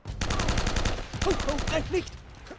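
Rapid gunfire from the Uncharted 1 video game rattles in a fast burst, loud and close, with some brief game voice sounds mixed in toward the end.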